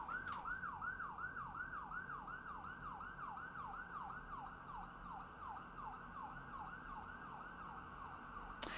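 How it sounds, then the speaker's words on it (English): Emergency vehicle siren wailing outside in a steady, repeating up-and-down cycle, moderately distant and continuous throughout, with no talking over it. "These sirens take so long to pass."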